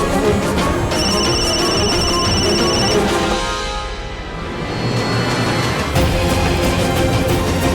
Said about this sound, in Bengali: মনে হচ্ছে ওই মেয়েটাই ফোন করেছে যে সুমনার পিছন পিছন